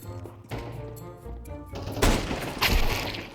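Sharp gunshot cracks from a scout sniper rifle in a competitive shooter game, two loud reports ringing out over background game sounds.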